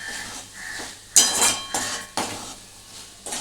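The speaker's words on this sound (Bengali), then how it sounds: "এবার এটাকে আমি একটু নাড়াচাড়া করব।" Chana dal filling is stirred in a pan with a little ghee, a spoon giving several sharp metallic clinks and scrapes against the pan in uneven bursts, close and fairly loud, with no talking.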